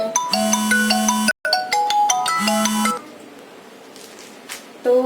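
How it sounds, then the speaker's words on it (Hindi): A mobile phone rings for an incoming call, loud and close, with a repeating melodic ringtone pattern that cuts out briefly and then resumes before fading to room noise. "मम्मा का फोन आ रहा है, 1 मिनट।"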